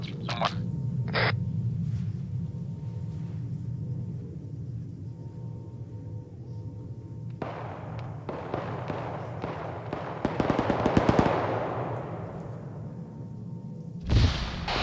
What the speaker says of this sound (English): Boys on top are taking some pump shots from somewhere.